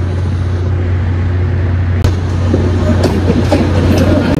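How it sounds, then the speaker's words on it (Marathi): Train pulling into a railway station, a loud continuous rumble with low mechanical drone and intermittent clanks and clicks of wheels and cars, heard close by. "ट्रेन आली"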